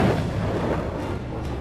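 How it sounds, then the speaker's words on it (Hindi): Bofors howitzer artillery gun firing, a single heavy boom with a rumbling, dense low-end blast that decays slowly over under two seconds. "होविट्ज 77 यानी बोफोर्स तोप एक ऐसी तोप जो 27 किलोमीटर रेंज में दुश्मन को केवल मारती ही नहीं"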